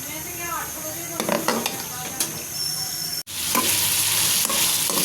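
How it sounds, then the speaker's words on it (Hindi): Chicken fries in hot ghee with a steady, close sizzle and hiss, broken by scraping stirs and light clinks of a spoon against the pan, with a brief drop out midway before the sizzling resumes louder. "अब चिकन को फ्राई कर लेते हैं।"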